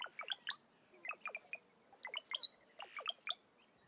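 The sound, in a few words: brown-headed cowbird call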